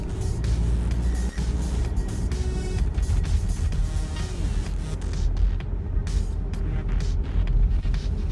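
Skoda Kodiaq SUV on a morning drive to work, heard from inside the cabin as a steady low road and engine drone with soft tyre rumble, moderate and continuous throughout.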